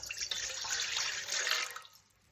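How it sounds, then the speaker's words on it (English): Water pours steadily from a tap into a container while measuring 200 grams for pizza dough, a close, continuous splashing stream for about two seconds that tapers off as the flow stops. "So firstly we need to pour out 200 grams of water."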